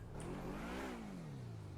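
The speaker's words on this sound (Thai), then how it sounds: "กูเร่งเครื่องนะ" A car engine revs up and then eases back down, a steady mid-pitched roar held close by for under two seconds.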